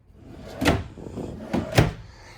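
Drawers in a Keystone Sprinter 3210RLS RV sliding open or shut, two distinct close thuds about a second apart with soft rolling noise between, nearby and fairly loud, no talking.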